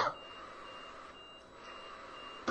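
An alarm beeps steadily and fairly faintly with a high, sustained tone for a couple of seconds, alone with no voices, during a late-night live stream.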